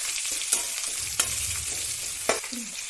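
Chopped onions frying in a pan for gobi Manchurian: a continuous close sizzle with a few sharp spatula scrapes and clicks standing out, no voices.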